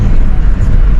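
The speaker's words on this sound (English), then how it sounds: "let me show y'all boys how good, how amazing this car sounds at low boost. I'ma do a slight pull" BMW F30 335i with N55 engine, straight-piped with only a muffler and open exhaust flaps, pulling lightly at low boost: a steady, loud low rumble filling the whole second with no gaps.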